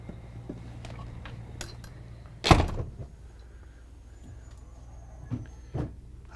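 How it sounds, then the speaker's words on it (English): The entry door of a 2023 Newmar Super Star 4059 RV shuts with a single solid thunk, followed by a few fainter clicks and knocks in a quiet interior. "I'm going to shut this door."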